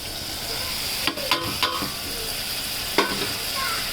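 Cut brinjal sizzles as it fries in a pan with cooked-down tomato, under a steady hiss, while a spoon stirs and scrapes against the pan in a few distinct strokes.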